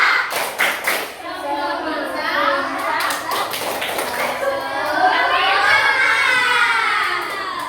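A group of schoolchildren performs a rhythmic spirit clapping chant, sharp claps in patterned bursts alongside their chanting voices in a classroom.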